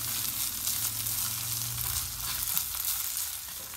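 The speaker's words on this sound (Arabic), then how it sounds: "هاي شوية قرفة، هيك نحركهم شوي" Cinnamon and spices frying in a pan, a steady close sizzle with soft stirring movement running throughout, no voices.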